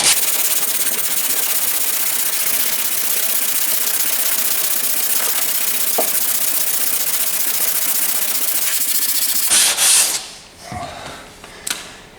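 Sanding filler on the body work of a 2012 Chevy Impala gives a steady, loud abrasive whir that runs without a break for about ten seconds, then stops abruptly, leaving a few faint scrapes and handling noises.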